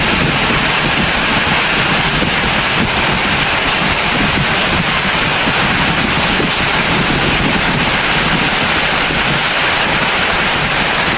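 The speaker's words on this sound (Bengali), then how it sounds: "তার মধ্যে নামছে বৃষ্টি" Steady rain falls outdoors on a green university campus at Jahangirnagar, a continuous dense wash with heavy wind buffeting the microphone throughout and no voices.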